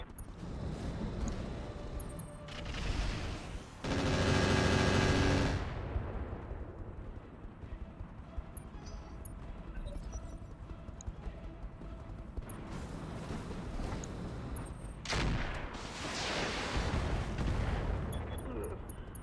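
Weapons fire and explosions in the RogueTech battle game, heavy booming blasts and sustained volleys in bursts, loud and dense between quieter stretches of rumbling battle noise.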